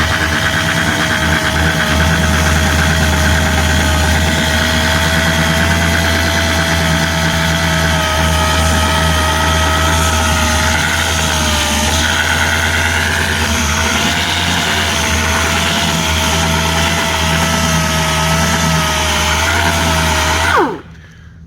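A dual-action sander on a 1970 Chevelle car panel whirs steadily and loudly up close for about twenty seconds, a constant buzzing hum with slight pitch wobbles, then cuts off abruptly.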